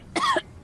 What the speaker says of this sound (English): I'm devolved into coughing